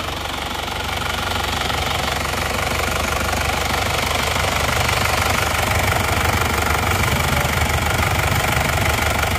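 A warmed-up car engine runs steadily, loud and close, with a dense rattling, knocking texture and no pauses. No one speaks over it.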